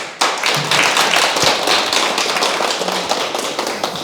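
An audience at a Buddhist Sunday dharma talk breaks into clapping, a sudden loud burst of many hands that holds steady and then thins toward the end.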